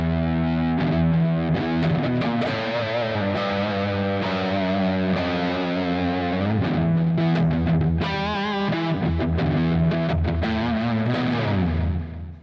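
Electric guitar played on its neck pickup through a distortion effects unit, producing a warm, vintage-flavored overdriven tone with sustained chords and picked notes, loud and steady throughout with no talking.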